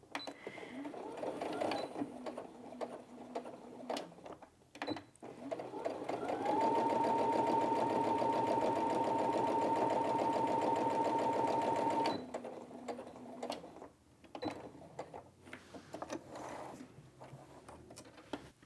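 A Brother Innov-is A16 sewing machine works through eight layers of doubled denim, opening with short bursts and clicks before a steady, even, rapid stitching run lasting several seconds, then tapering back to slow, intermittent stitches and handling noises.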